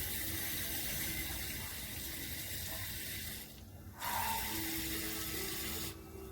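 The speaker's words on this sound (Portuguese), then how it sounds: "Percolar bastante água" Water is poured steadily through the soil of a newly repotted Surinam cherry pre-bonsai in cascade style, a continuous close hissing flow that breaks off briefly twice before resuming.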